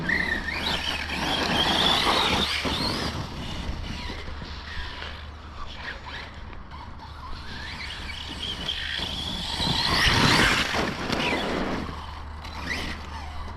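An Arrma Outcast 4s V2 RC car with a steering upgrade drives nearby, its motor whining and rising and falling continuously, with mechanical creaks and surges, loudest near the end.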